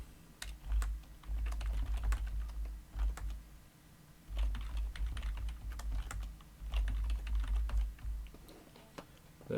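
Router network configuration commands are typed on a computer keyboard in bursts of rapid key clicks separated by short pauses, close and clear over a low hum, no talking.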